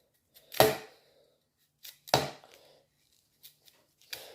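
Broccoli florets are cut off the stem with a knife, three distinct crisp snapping cuts spaced apart with small taps between, close and quiet in an otherwise silent kitchen.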